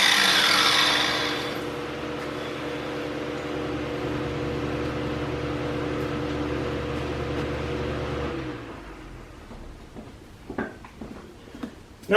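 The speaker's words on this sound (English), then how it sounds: "if you guys are wondering why it sounds so loud in here, it's because I have an exhaust fan on" An exhaust fan running in a workshop gives a steady, loud broadband whoosh with a low hum for most of the time, then cuts out and leaves faint knocks and handling sounds.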